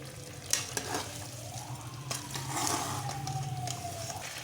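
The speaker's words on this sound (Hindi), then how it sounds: "ये देखिए हमने अपने मसालों को अच्छी तरह से भून लिया है।" Spices fry and sizzle in a pan for aloo matar gosht, a steady close crackle with intermittent stirring scrapes and a faint high whine in the background.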